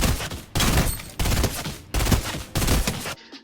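Five evenly spaced bursts of rapid rifle fire from a burst-mode weapon in a video game, each loud, close volley lasting about half a second with short gaps between, ending in quiet.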